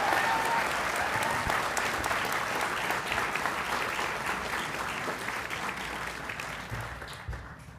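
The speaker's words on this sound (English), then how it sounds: "please give another round of applause to the recipients of Individual Academic Achievement" Audience applause for award recipients at a college honors convocation, an even wash of many hands clapping, moderately distant and gradually thinning out toward the end.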